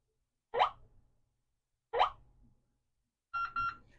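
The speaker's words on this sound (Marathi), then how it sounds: "डबल बीपचा आवाज येईल." A digital door lock sounds short electronic tones after a reset, two quick blips followed by a brighter double beep, each crisp and close against near-silence.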